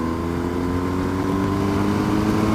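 A 2019 BMW R1250 motorcycle engine runs steadily in fourth gear after a downshift, a continuous close, even drone with strong low harmonics and some wind rush throughout.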